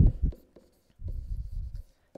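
Pen or pencil scratching on paper as a maths answer is written by hand, short close strokes in two bursts separated by a brief pause, quiet and alone.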